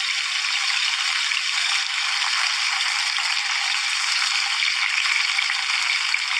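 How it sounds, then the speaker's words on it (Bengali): Fish pieces sizzle steadily in hot oil in a pan as they are turned over, a continuous bright crackling hiss close by with no talking. "দেখুন আমি উল্টে দিচ্ছি, কত সহজে উল্টানো যাচ্ছে, মাছ প্যানে লেগে যায়নি।"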